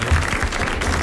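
Studio audience applauding at a French radio-television quiz show, a steady dense clapping wash that carries on for about a second.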